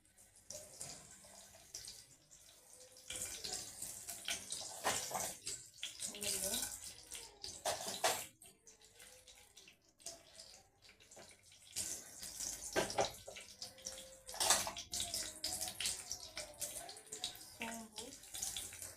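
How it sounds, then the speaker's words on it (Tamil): Mustard seeds, fennel and cumin splutter and crackle in hot oil for a South Indian kuzhambu, irregular popping bursts close by, with a voice speaking at times. "ஜீரகம், கடுகு நல்லா பொரியட்டும்."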